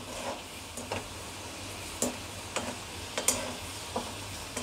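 Garlic fries in mustard oil with a steady crackling sizzle, broken by intermittent sharp ticks and scrapes as it is stirred in the pan; no talking.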